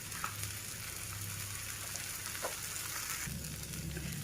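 Pearl millet dosa roasting on a hot pan over low heat with a little oil, giving a soft continuous crackling sizzle with faint pops.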